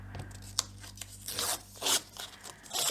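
Paper being trimmed down to size for a collage masterboard, with close, crisp snips and short tearing rasps coming in uneven bursts, alone with no talking.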